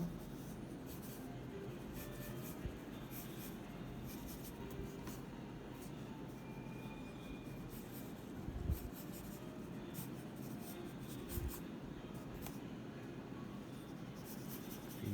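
A pencil drawing hair on paper, a faint steady scratching of quick repeated strokes throughout, with a couple of soft taps.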